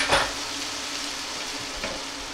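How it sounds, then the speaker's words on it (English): Steady sizzling of onions frying in a pan, a continuous hiss with a couple of brief louder crackles or stirring clatters, no voices. "now we're just frying this off"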